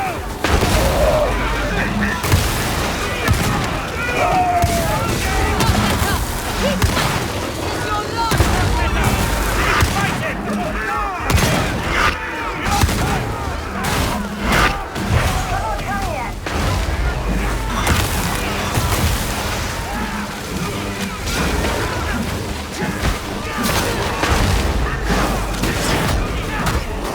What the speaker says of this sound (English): That barrel's going to explode!